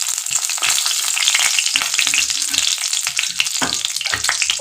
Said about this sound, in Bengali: তেজপাতা দিলাম।